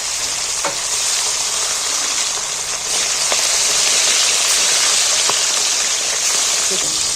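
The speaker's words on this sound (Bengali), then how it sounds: "এইবার আমি বাটা মাছগুলো এই তেলের মধ্যে ভেজে নিচ্ছি" Bata fish sizzling in hot oil in a pan, a steady broadband frying hiss running throughout with a few faint clicks, close and fairly loud.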